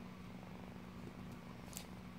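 A cat purrs softly and steadily close by, a low continuous rumble in an otherwise quiet room.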